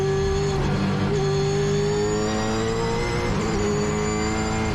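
A 2008 Holden V8 Supercar racing engine at Brands Hatch accelerates hard with a loud, continuous, high-pitched wail that shifts pitch slightly as it pulls through the gears.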